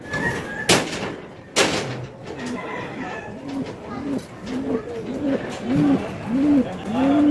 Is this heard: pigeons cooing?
yes